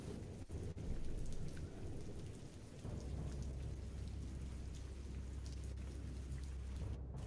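Heavy rain pours down in a stormy tabletop-game ambience, with thunder rumbling early on and then a low rolling growl beneath the steady downpour; no voices are heard.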